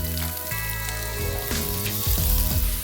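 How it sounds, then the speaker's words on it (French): Food hits olive oil in a very hot pan for a beef feijoada and sizzles loudly and steadily up close, with a few metallic clinks and a swelling crackle toward the end, no voices. "On va le faire frire. Je prends une petite poêle, j'ajoute de l'huile."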